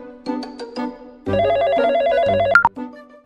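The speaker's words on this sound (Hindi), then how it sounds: "बे यार सैलून वाले की कॉल आई है" Telephone ringing with a repeating electronic ringtone melody, loud and close, a few short tones followed by a sustained warbling ring, with no talking over it.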